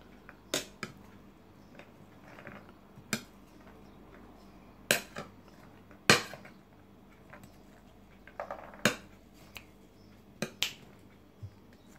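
A spoon mixes fruit salad with pomegranate in a bowl, making a dozen or so sharp, sparse clinks against the dish at irregular intervals, quiet and close, with no talking.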